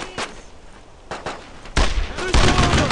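Thompson submachine gun fire in a World War II shooter, scattered shots at first and then a dense, loud burst of automatic gunfire with heavy battle noise.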